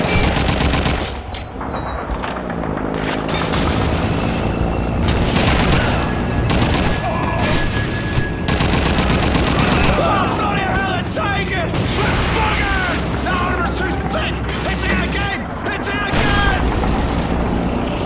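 Enemy gunfire in Call of Duty 2: a continuous, loud battle din of overlapping rifle shots and machine-gun bursts with booming impacts, and voices talking over the fighting.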